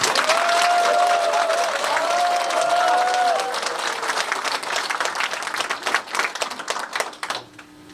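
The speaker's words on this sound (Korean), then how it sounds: "여러분도 그렇게 생각하시면 박수 좀 쳐주세요." Guests at the opening of a parliamentary candidate's campaign office burst into loud applause, dense clapping that thins into scattered claps toward the end, with a voice over it early on.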